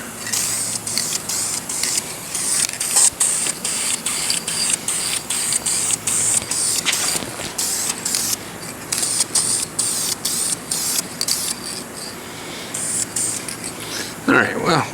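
A spray can lays a light first coat of paint on car dash trim, the hiss coming in rapid short bursts with brief gaps throughout, loud and close.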